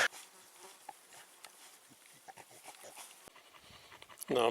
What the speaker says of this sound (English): the dog's had a good big drink